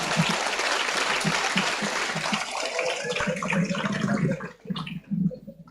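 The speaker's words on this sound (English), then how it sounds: "Oh, clap for me." Audience applause at a school graduation ceremony, dense clapping from a crowd that holds steady and then thins out into scattered claps near the end.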